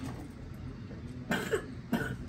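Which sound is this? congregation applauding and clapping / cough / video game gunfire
cough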